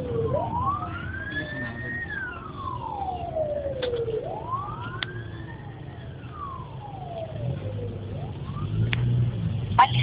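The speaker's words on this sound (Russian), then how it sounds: "И милиция уже подъезжает." A police car siren cycles through slow rising and falling wails over low traffic rumble, holding close and steady and swelling slightly toward the end as the car approaches.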